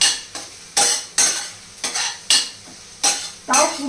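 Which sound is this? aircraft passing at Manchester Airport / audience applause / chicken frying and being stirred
chicken frying and being stirred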